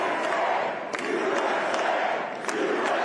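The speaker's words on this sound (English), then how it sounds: "Cheering for our country." Election rally crowd cheering and shouting loudly and continuously, a dense roar of many voices with brief whoops rising above it, close and steady throughout.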